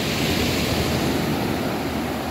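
Beach waves washing in at Krabi, a steady, close, broad rush of surf with no talk.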